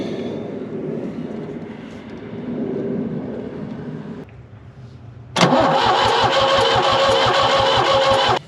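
A New Holland L783 tractor's diesel engine with a no-start issue: a steady mechanical hum drops away, then loud, rhythmic cranking pulses begin and carry on through the end.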